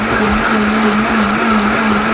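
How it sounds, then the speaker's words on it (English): Blender whirring through salsa verde with serrano peppers, a loud steady motor drone holding even throughout. "Plug in blender. Blend it up!"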